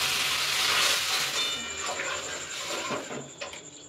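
Milk poured into a hot pan of fried dalia, producing a loud, broad hiss and bubbling sizzle that slowly eases off over a few seconds.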